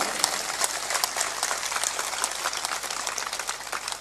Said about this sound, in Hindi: तो दमदारी से मारो ताली।